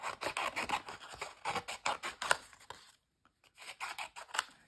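Scissors snipping through paper to cut out hearts, a quick run of close, crisp cuts that pauses briefly before a few more snips.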